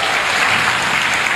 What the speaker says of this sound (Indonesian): Tepuk tangan buat UNER.